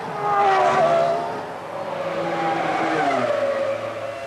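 Formula One cars of the 2000 season racing, with a Ferrari overtaking a rival at the start of a lap: several high-pitched engine notes rise and fall as the cars pass, loud and continuous with no talk.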